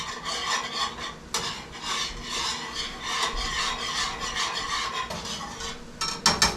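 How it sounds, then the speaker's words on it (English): Crab boil seasoning being whisked into a pan sauce for sautéed shrimp, a steady close scraping, rasping stir that runs throughout with a brief louder burst near the end. "Whisk it in."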